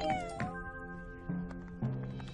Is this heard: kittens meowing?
yes